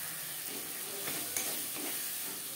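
Gobindobhog rice is stirred into a spiced tomato masala in a pan, with a soft steady sizzle, scraping stirs and a sharp utensil knock at the very end.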